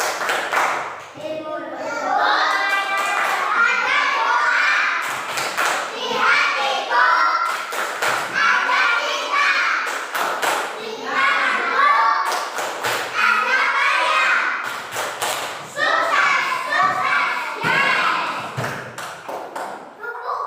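Primary school pupils do the 'tepuk sukses' clapping chant in a classroom, rhythmic bursts of many hands clapping in patterned groups while young voices chant loudly along.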